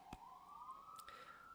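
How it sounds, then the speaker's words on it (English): A siren wails outside, a single rising tone sweeping steadily upward and sustained throughout, moderately loud behind faint room noise. "I got a siren already, not a great start to the show."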